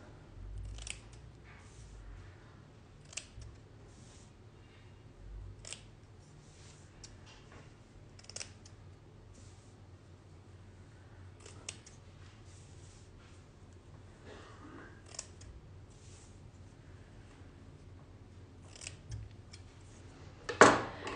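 Scissors snip along the fabric edges of an embroidered wreath hoop, a series of quiet, close, irregularly spaced cuts over a faint background, ending with a louder handling clatter.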